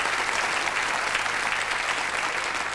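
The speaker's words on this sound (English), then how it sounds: "No good you clapping, Ian" A studio audience at a game show claps in a dense, steady burst of applause throughout, close and loud, with no talking.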